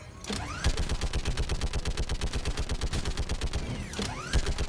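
A turret fires in the Mass Effect 3 video game, a rapid, evenly spaced stream of loud shots held for several seconds, with heavier blasts at the start and end.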